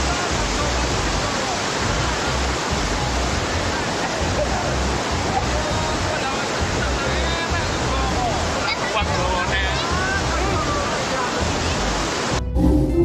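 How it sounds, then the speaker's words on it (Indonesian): A rushing, overflowing river in flood roars continuously, a loud, dense broadband wash of turbulent water that stays steady throughout before cutting out briefly near the end. "terlihat kondisi air sungai yang deras dan meluap akibat banjir"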